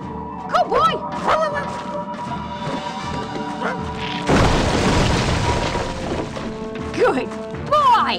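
A bomb blast in the Jimmy Neutron: Attack of the Twonkies video game, a loud broadband explosion that rises suddenly and roars for several seconds among chirpy game sound effects, with talk around it.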